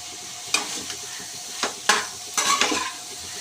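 A spoon scrapes and clatters in a pan as fried cauliflower masala is stirred, several sharp knocks over a faint sizzle, close and alone.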